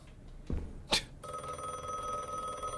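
A telephone rings in a video game, a steady electronic bell trill that starts after a couple of soft thumps and a sharp knock and continues evenly to the end.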